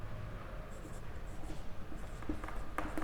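Chalk or marker writing a definition on a classroom board, light scratchy strokes and taps over steady room noise in a physics lecture, without talking.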